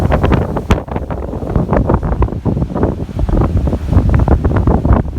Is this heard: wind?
yes